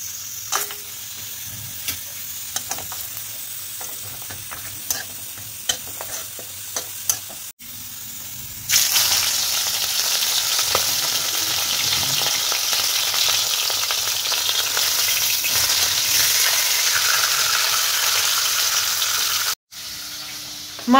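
Fish frying in a pan in a home kitchen: quiet clatter and faint sizzling at first, then a loud, steady hiss of hot oil bursting in and continuing for most of the clip, with brief cutoffs.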